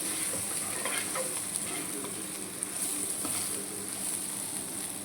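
Chicken fries in a pan, giving a steady soft sizzle with faint crackles, close and quiet, with no voices over it.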